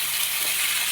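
Spinach thoran (greens such as spinach, bean and pumpkin leaves) frying and being stirred in a pan, a steady close sizzle with a faint scrape of stirring and no voices.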